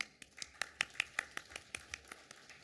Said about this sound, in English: please, a very big round of applause for all of us here